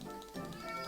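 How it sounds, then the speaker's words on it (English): A pet cat lets out a single short meow close by, lasting under a second and coming through clearly against a quiet room. "Apologies about the cat."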